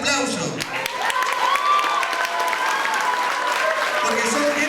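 Audience applause at a televised Spanish-language arts program, a steady dense wash of clapping with some crowd cheering, loud and sustained, with a voice speaking briefly at the start.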